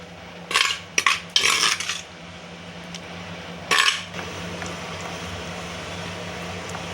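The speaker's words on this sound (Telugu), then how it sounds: "దీంట్లో వేసి బాగా మిక్స్ చేసుకోవాలి." A spoon clatters and scrapes in a metal pan while a mixture is stirred into a tempering, with several sharp bursts of metallic scraping over a low, steady background hum.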